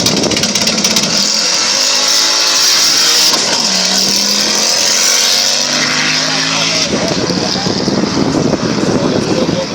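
An Audi drag car accelerates hard down an airfield strip at a Kazlu Ruda drag racing event, its engine loud and rising in pitch through the gears while a commentator talks over it.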